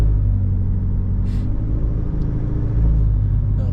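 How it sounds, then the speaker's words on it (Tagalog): Heavy road traffic rumbles around a moving vehicle in the Philippines, a dense low roar of many engines with a brief passing swell and slight revving, no talk over it. "Ang daming sasakyan."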